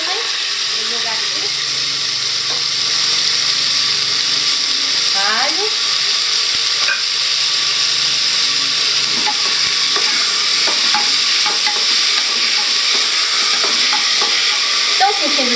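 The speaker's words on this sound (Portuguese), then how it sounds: "Aí, eu vou pôr na panela para fritar a cebola, o tomate, o alho." Onion, tomato and garlic frying in a hot pan, a steady loud sizzle with bursts of hissing steam and occasional stirring scrapes, and brief talk now and then.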